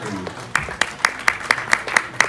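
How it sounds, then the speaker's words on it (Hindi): Rhythmic clapping, a steady series of sharp claps at an even pace, with a voice heard faintly at the start. "जोरदार तालियों से स्वागत कीजिएगा।"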